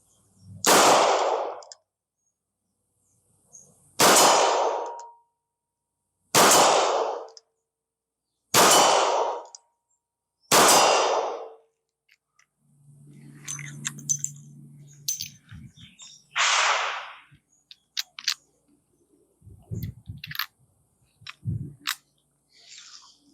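Five loud, evenly spaced gunshots from a Rossi snubnose revolver fired at short distance at a steel target, each a sharp crack with a ringing tail, followed by scattered clanks, handling noises and rustling.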